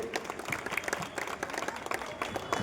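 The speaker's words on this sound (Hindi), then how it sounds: "एक बार जोरदार तालियां" Audience at a public rally in Mumbra claps in a dense, steady burst of applause, fairly close and continuous for a few seconds with a faint murmur underneath.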